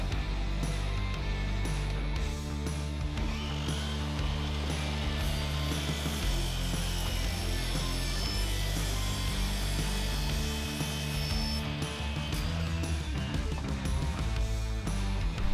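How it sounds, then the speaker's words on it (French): A power tool cuts aluminium U-profiles to length for a sliding glass wall, producing a steady buzzing, ratcheting mechanical drone with dense harmonics that runs continuously for the whole stretch. "Ensuite, coupez les profilés en U exactement à cette longueur."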